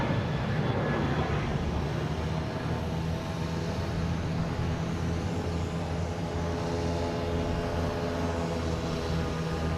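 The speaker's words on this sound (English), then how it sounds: "We got a 737-800 heading to Charlotte." A Boeing 737-800 at Boston Logan International Airport gives off a loud, sustained jet engine roar with a low steady hum underneath, holding level throughout.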